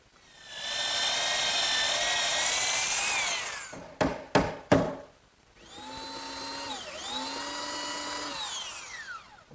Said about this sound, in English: My belt sander does a good job removing any of the excess dowel.